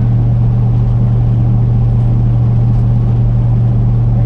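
A Ford F250 pickup, left standing in a pasture for years and now towing a loaded trailer, drones steadily up a gravel hill with a loud constant low engine hum and no voices.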